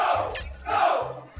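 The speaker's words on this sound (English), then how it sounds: "the crowd is chanting no" Crowd chanting at a Super Smash Bros. Melee tournament, a loud massed roar of voices rising and falling in two swells, heard from within the hall.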